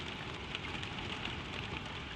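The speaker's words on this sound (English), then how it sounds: "The rain on the window, soft and far." Soft rain patters against a window glass in a quiet bedroom at night, a steady, even hiss with fine scattered drops, gentle and distant with no talking.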